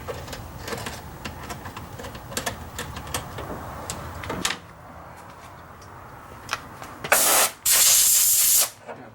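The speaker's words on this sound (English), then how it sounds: "Put some lube on that clamp screw here." Short bursts of lubricant spraying onto a clamp screw during work on a 4BT Cummins engine governor, two loud hissing blasts near the end after quieter tool handling and clicks.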